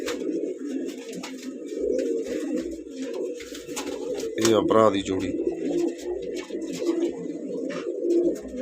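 Pigeons coo in a low, repeated murmur close by, with one louder burst of cooing in the middle while someone talks over it.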